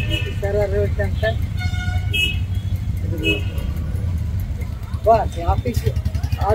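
Busy Chennai street traffic: a steady rumble of cars and buses with repeated short honks from several horns, some near and some farther off, and voices mixed into the din.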